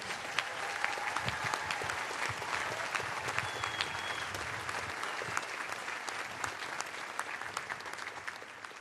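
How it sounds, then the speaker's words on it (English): A graduation ceremony crowd applauds graduates receiving advanced degrees, a broad sustained wash of clapping from a large audience, fairly distant and even, continuing steadily without speech. "Let's have a warm round of applause for all of our graduates receiving advanced degrees."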